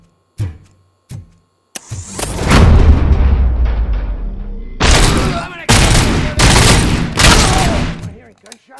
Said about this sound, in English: Hearing gunshots?